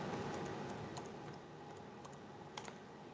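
Someone types on a computer keyboard during an online meeting, with a quiet run of key clicks spread across three seconds and a few sharper taps near the end, heard without any talking.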